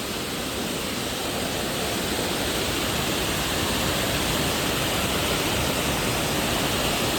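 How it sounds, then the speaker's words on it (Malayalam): A waterfall roars as a steady, dense wash of rushing water, loud and close, with no break or change throughout. "ഇതുണ്ട്, ഇതാണ് വെള്ളച്ചാട്ടം"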